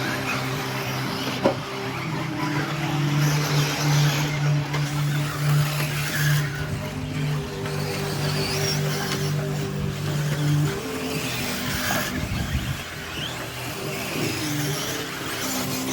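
Electric RC buggies racing around an outdoor track, a steady high whine of small motors with a sustained buzzing drone, distant crowd-like ambience beneath, loud and continuous throughout.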